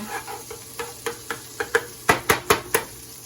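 Butter cooks down in a pan as brown gravy is made from scratch, giving a soft sizzle. A utensil taps and scrapes the pan about a dozen times in a steady, quickening rhythm.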